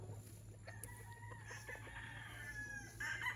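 A Kelso gamefowl rooster crows faintly and clucks a few times, its calls rising near the end over a steady low hum and quiet background.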